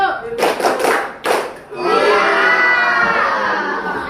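A group of schoolchildren claps together a few times in a quick counted rhythm during a concentration exercise in class, then breaks into loud overlapping chatter and shouting.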